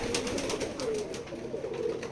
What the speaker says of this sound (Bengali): আমাদের এই খামারে দেশি বিদেশি সকল ধরনের কবুতর আছে